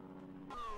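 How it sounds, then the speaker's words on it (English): Racing car engine in the rFactor 2 sim, a Formula 1 car at the Hungarian GP with a blown transmission, droning steadily then rising in a sudden rev partway through, a whining tone climbing and holding to the end. "You can hear the engine running, but unfortunately that transmission is gone"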